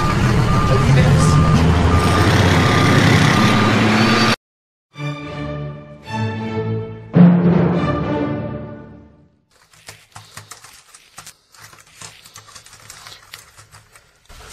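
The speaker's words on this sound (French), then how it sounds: "Vas-y, recule le camion." A truck reverses, its backup alarm sounding a steady run of evenly spaced beeps in the middle, after a stretch of loud voices and street noise and before a quieter, scratchy tail.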